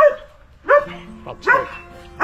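A dog barks three times close by, short sharp yelps spaced about a second apart, with faint chatter and background noise between the barks.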